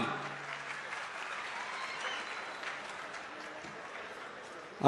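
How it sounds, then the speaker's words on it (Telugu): An audience at a government meeting with the state chief minister and farmers bursts into sustained applause, a dense, even clatter of many hands filling the hall for several seconds with no voices over it. "గట్టిగా చప్పట్లతో అభినందనలు తెలియజేద్దాం."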